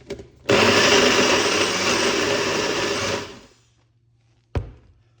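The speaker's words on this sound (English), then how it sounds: "I'm waiting on my blender" A kitchen blender whirs loudly for about three seconds while making a detox juice, then winds down into quiet. A single sharp knock follows shortly after.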